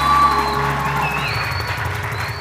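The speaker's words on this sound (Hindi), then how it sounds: "डॉक्टर कमल वीरानी के लिए बहुत सारी तालियां" A studio audience on a TV morning show breaks into applause and cheering, a dense wash of clapping and crowd noise over steady music in the background.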